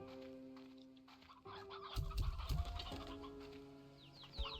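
Hens in the video game Slime Rancher 2 cluck and chatter in short bursts over a steady tonal game ambience, close and fairly clear, with a louder flurry of clucks midway and no speech.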